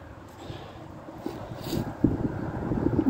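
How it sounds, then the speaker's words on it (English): Wind gusts outdoors at a power cable trench site, a steady low rumbling buffet across the microphone that grows stronger in the second half, with no one talking. "it's cold, it's windy, and it's not nice at all."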